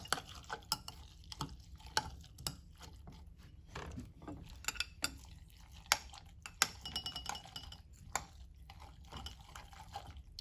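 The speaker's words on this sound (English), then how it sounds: "I'm just going to give them each a quick stir just to get them a little incorporated" Thick oatmeal stirred in cups, faint wet scraping and clicking of a spoon against the containers in irregular bursts, quiet and close.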